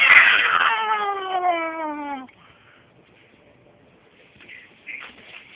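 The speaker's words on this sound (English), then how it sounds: "We got a cat out here." A cat gives one drawn-out, wavering meow up close that fades after about two seconds, followed by quiet with faint distant chirps.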